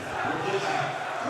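Loud crowd cheering in a basketball gym as a substitute heads to the scorer's table, a dense roar of many voices close around, steady throughout and blending with talk.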